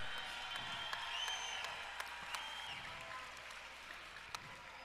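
A crowd at the USA BMX Grand Nationals cheers and applauds in a steady, fairly distant roar, with a few sharper claps and whoops rising out of it.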